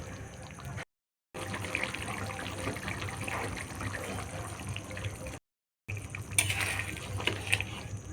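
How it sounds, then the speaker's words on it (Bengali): Paneer curry with cashews simmering after water is added, giving a steady bubbling, watery hiss with brief gaps and some stirring clinks near the end. "জল দিয়েও দু মিনিট মতন ফুটিয়ে নেব আর মাঝে মাঝে নেড়ে দেবো"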